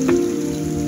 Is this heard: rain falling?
yes